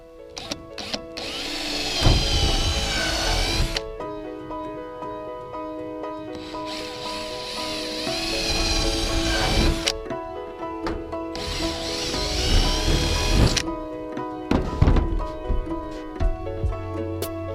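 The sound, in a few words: power tool cutting hole through roof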